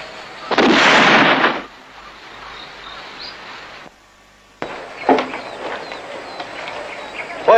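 Gunshots in a film scene from a P. Ramlee movie: a loud, sustained, booming burst near the start, then after a brief silence further rough crackling bangs that fade into background noise.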